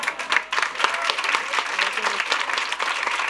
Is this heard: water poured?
no